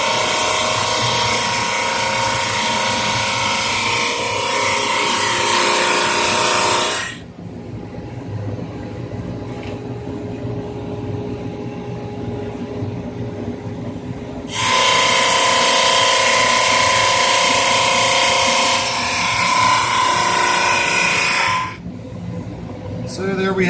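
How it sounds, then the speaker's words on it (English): A Supermax 19-38 drum sander grinds through wood with coarse sandpaper, a loud steady rasping hum for several seconds, dropping to the motor's quieter idle, then another long loud sanding pass before idling again. "That's what the drum sander does."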